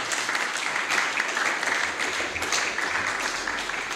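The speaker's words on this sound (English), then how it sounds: "applause for today's lecture" Steady applause from a lecture audience at the close of a lecture in a speaking series, with dense clapping continuing evenly throughout and no voices over it.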